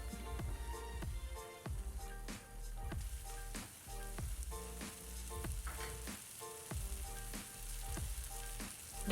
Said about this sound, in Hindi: 4 to 5 मिनट्स फ्राई करेंगे।